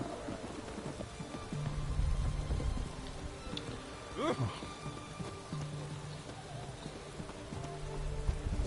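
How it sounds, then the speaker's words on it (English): Steady rain hisses across a Witcher 3 game scene, with the clop of horse hooves and a brief voice rising over the wash of falling drops. "It's raining."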